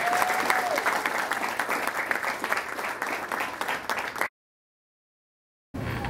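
An audience at a culinary school graduation ceremony claps loudly and continuously, a dense wash of applause that cuts out briefly and then resumes.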